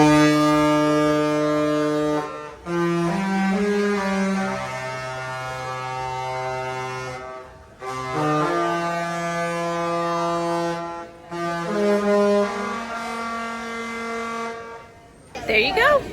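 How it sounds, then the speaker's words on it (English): The Regal Princess cruise ship's horn plays a theme at noon on a sea day, long sustained tonal blasts shifting through the melody's notes, loud and resonant with short pauses between phrases, heard from out on deck. "we're waiting for the 12 o'clock noon on Sea Days ship's horn"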